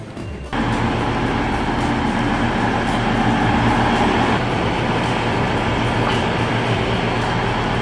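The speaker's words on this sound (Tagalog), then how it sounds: "First time na nakasakay kami ng train dito sa Toronto." Union Pearson Express train in Toronto heard from inside a carriage: a steady, loud rumble of wheels and rails that swells after a brief quiet start and continues throughout.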